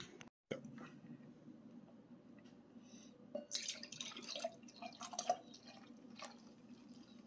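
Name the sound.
pouring a mixed drink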